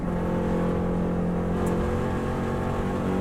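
A Subaru WRX STI engine drones steadily at speed on the Isle of Man TT course, held in fifth gear with a constant low hum and road roar and no talking.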